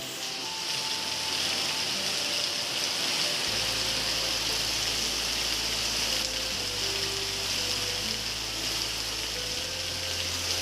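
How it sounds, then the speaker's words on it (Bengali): Heavy monsoon rain pours down outside a house where the street has flooded and the front steps are under water, a dense, steady hiss of water with no voices. "প্রচণ্ড বৃষ্টির আওয়াজ এখানে দেখো"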